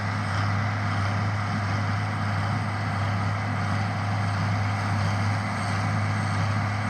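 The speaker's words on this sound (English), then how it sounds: "First outing for us baling hay with this tractor." An International Harvester 1026 hydro tractor pulls a New Holland baler through double windrows of hay, its engine a steady droning hum at moderate distance, unbroken and with no talking.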